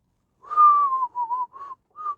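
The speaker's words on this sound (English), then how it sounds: "This time I whistled." A person whistles a short tune alone, starting with a long steady note and then three brief separate phrases, clear and fairly close with no talk.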